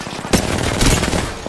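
Shotgun blasts in a first-person shooter video game: a loud, sharp boom near the start, then another heavy shot, with sustained rumbling gunfire filling the rest of the burst.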